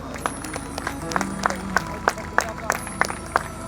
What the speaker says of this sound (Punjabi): ਇੱਕ ਵਾਰੀ ਬਾਬਾ ਮੁਰਾਦ ਸ਼ਾਹ ਦੇ ਨਾਂ ਤੇ ਇੱਕ ਵਾਰੀ ਖੁੱਲ ਕੇ ਤਾੜੀ ਮਾਰ ਦਿਓ